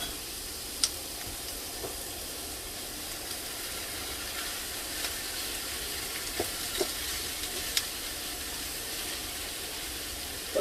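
Kielbasa sausage fries with cabbage in a pan, giving a steady, even sizzle and hiss with a few faint pops and stirring clicks, close and moderately quiet, with no talking.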